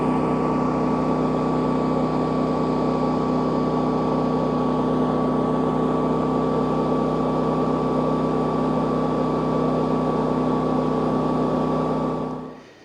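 A GenMax 10500XiT generator runs at high idle, a loud, steady engine drone with a constant tonal hum that holds evenly for about twelve seconds before cutting off abruptly at the end.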